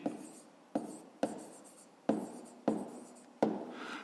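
Handwriting during a 5th-grade math exercise: six scratchy bursts of pen-on-paper strokes in a steady rhythm, close and fairly quiet, with no talking.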